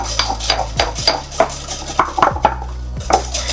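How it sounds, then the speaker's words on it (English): A utensil clinks rapidly against a bowl while hand-whisking egg yolks with mustard, in a quick, uneven rhythm, close and fairly loud. "I'm going to whisk the egg yolks and the mustard together"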